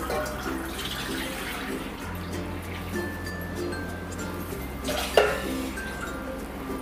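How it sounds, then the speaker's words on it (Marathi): Two glasses of water are poured into a pot to cook rice-flour dough for modak, making a steady running trickle with a low hum beneath it and a sharp metallic clink near the end. "2 ग्लास पाणी टाक उकड घेण्यासाठी."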